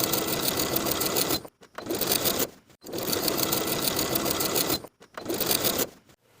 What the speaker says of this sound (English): I'm going to sew right above the skirt gathers along the waistband from one side to the other with about an 1/8 of an inch seam allowance